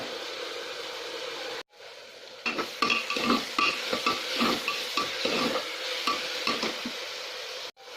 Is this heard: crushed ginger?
yes